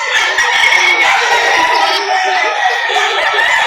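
Roosters crow and fowl cluck amid a busy livestock auction market crowd, with chatter and calls running under the birds throughout, dense and steady at close range.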